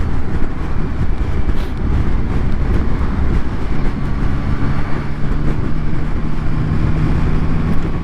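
Yamaha Tracer 9 GT motorcycle engine on the move, a loud, steady high-pitched drone under heavy wind rush, with faint tonal lines shifting as revs change over several seconds.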